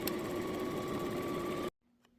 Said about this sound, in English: put my needle down, presser foot down, and start sewing.